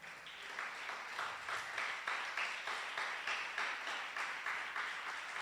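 A church congregation claps together in a steady, rhythmic beat during a Spanish-language service, the even pulses filling the room at moderate loudness with no talk over them.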